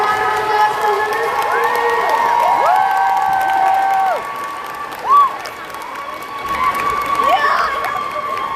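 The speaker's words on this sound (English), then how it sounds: "a round of applause for Melissa." Audience at a comic con convention applauds and cheers loudly, a dense wash of clapping with whoops rising over it, dipping briefly before swelling again near the end.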